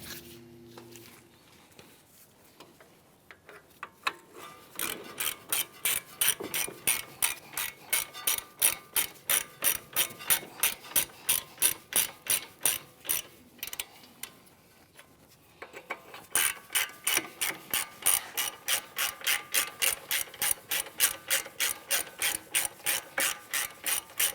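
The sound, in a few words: ratchet tightening caliper bracket bolts on Hyundai Sonata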